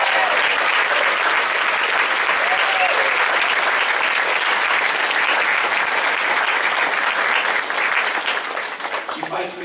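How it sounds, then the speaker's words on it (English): Loud, sustained applause from an audience at a school festival, dense clapping that holds steady for several seconds before thinning out at the end. "Please a round of applause for Ms. Campbell."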